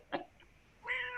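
A cat meows twice indoors, a short squeak followed after a pause by a longer, clear, close meow.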